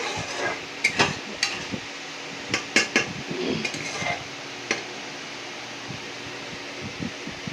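Spice paste stirred and fried in oil in a cooking pot for chhanar khichuri, with a spoon scraping and clanking against the pot in irregular bursts over a soft steady sizzle.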